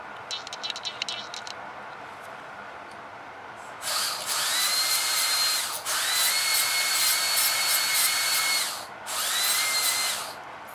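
Dental drill with a coarse bur finishing a Class IV composite restoration: a high-pitched whine in two long bursts broken by a short pause, after a brief faint scratching, close and steady.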